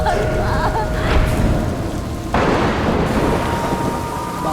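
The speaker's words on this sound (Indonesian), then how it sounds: "Di luar hujan deras sekali." Heavy rain pours down steadily outdoors while a loud rumble of thunder rolls through, the downpour dense and close throughout.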